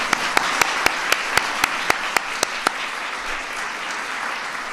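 Steady audience applause at a White House event on school wellness standards, with a series of sharper, evenly spaced claps standing out near the front for the first few seconds before the clapping continues as an even wash.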